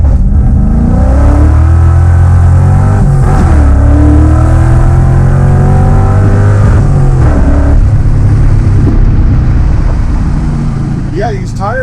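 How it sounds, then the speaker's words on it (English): Car engine held on a two-step launch limiter, revving loud and steady with pitch sweeps and rising whine, close and continuous; tire spin sound is not clearly distinct within the engine roar. "I launched it right about here just to see how hard it would turn the tires."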